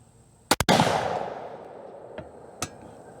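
Sharp rifle shots from a .264 Win Mag while sighting in: a quick loud cluster of cracks with a long rolling echo, then a fainter pop and another distinct shot a couple of seconds later.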